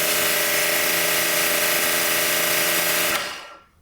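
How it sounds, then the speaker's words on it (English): An AR635 wall-mounted pressure washer and its sprayer run with a steady, loud hissing spray and a constant motor hum, cutting off and fading out near the end. "I think you guys can hear more of the sprayer than the actual pressure washer"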